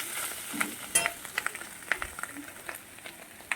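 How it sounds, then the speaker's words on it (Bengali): Fish roe, eggplant, onion and chili fry in plenty of oil, producing a soft, continuous sizzle with faint crackles and a few brief stirring clicks, nearby and without voices. "মাছের ডিম বেগুন পেঁয়াজ লঙ্কা অনেক করে তেল দিয়েছি দিয়ে ভাজা করে দিচ্ছি"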